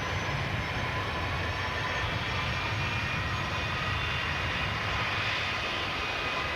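Aircraft engines roar in a steady, loud, broadband drone with a high whining pitch, heard close and unbroken throughout without talk.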